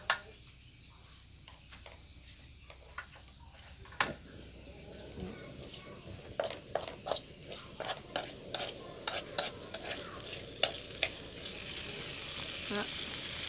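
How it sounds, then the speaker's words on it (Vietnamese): Radish and tofu are stir-fried in a hot pan with seasoning, a soft sizzle beneath a run of quick, regular spatula taps and scrapes that grow busier toward the end. "Mình bắt bếp lên mình xào cho nó rút hết cái phần gia vị này vô trong cái phần củ cải với lại tàu hũ kia này"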